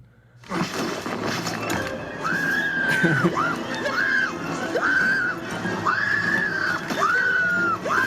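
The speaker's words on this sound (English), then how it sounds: "It's a 28-second scream. It keeps going." A high-pitched scream from Jurassic Park III rings out continuously and loudly for about 28 seconds, wavering in repeated rising and falling swells over a busy, noisy background.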